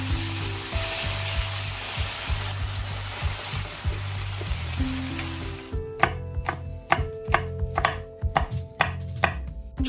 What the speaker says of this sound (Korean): 청양고추, 홍고추, 고명으로 쓰게 송송 썰어주시고요.